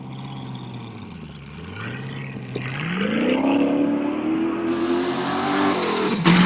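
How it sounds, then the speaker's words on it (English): A T1.2 class four-wheel-drive rally car at the Abu Dhabi Desert Challenge stage start pulls away from the line, its engine idling low then rising in a strong accelerating roar that climbs steadily and fades as the car leaves. "this is going to be our final vehicle off the line"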